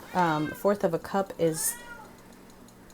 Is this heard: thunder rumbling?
no